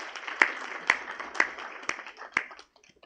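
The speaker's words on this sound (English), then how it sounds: "a loud round of applause for the parents," Scattered, sparse handclaps from a small graduation audience honoring parents, teachers and faculty of the class of 2024, about five distinct claps spaced across a few seconds before fading to near silence.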